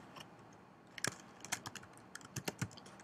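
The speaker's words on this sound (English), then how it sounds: "So I type in homework" Keys are tapped on a computer keyboard in an irregular run of close, crisp clicks, sparse at first and then quicker and more clustered, with no one speaking.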